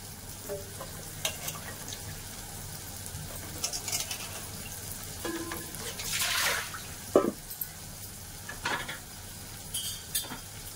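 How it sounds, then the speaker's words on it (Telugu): Chopped vegetables for sambar are rinsed in a vessel, giving faint, irregular splashes, trickles and clinks of pot and water spread across the clip, with one brief louder rush of water near the middle. "రెండు 3 సార్లు వాష్ చేస్తానండి ఇది కూరగాయలు."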